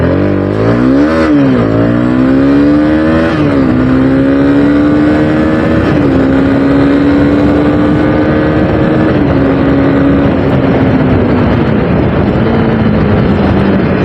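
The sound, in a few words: Honda CB300R motorcycle accelerating, engine revving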